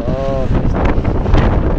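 Strong wind buffets the microphone with a constant rough roar, and a voice is heard briefly at the start.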